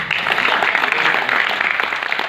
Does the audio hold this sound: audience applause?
yes